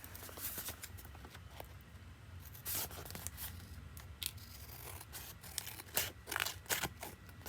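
Scissors trim the paper edge of a Christmas-themed altered envelope in a string of close, quiet snips and crisp paper rustles, with no one talking.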